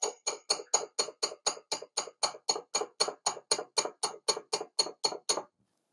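A fork taps rapidly against the rim of a bowl of melted chocolate coating a no-bake peanut butter rice krispie ball, producing about twenty crisp, evenly spaced clicks close up, with no talk.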